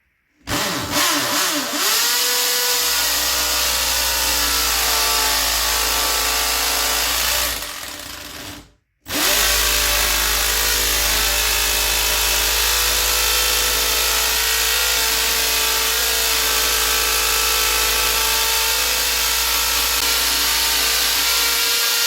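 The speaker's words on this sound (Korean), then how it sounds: "타일을 뚫고 나서 그 다음에 이것으로 갈아 끼운 다음에 뚫으면 욕실이나 이런 타일 벽면도 모두 똑같이 뚫을 수가 있습니다" A power drill bores through bathroom wall tile with a steady, loud droning whine that runs almost the whole time, breaking off briefly partway through before starting again, with no talking.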